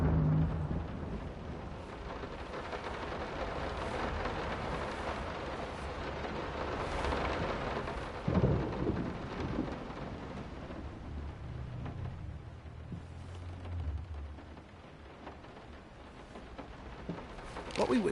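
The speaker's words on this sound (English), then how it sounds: "I hate that thunder." Rain hisses steadily with low rumbles of thunder in Layers of Fear. One heavier roll comes near the middle and another later, with some murmured speech at a distance beneath the storm.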